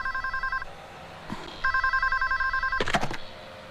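An old-fashioned telephone bell rings in repeated electronic trills, loud and close, with a pause between bursts and a couple of thumps near the end. The scene is from an Indian Hindi-language film.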